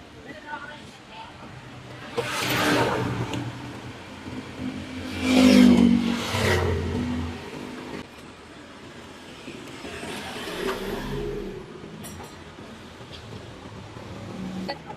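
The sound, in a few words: car engine revving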